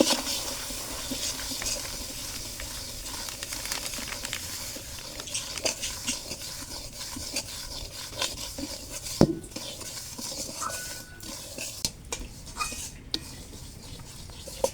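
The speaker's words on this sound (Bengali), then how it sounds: "সুজিটা ভেজে নেওয়ার জন্য সাদা তেল কড়াই দিয়ে দেব।" Semolina stirred in white oil in a wok (kadai), with steady metallic scraping and small clinks of a spoon against the pan over a low background hiss; no one speaks.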